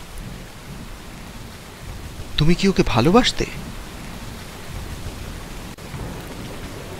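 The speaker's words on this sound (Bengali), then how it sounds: "বাইরে বৃষ্টি পড়তে লাগলো।" Rain falling outside as a sound effect in a Bengali audio story: a soft, steady hiss of rainfall that runs throughout, with a voice speaking briefly over it.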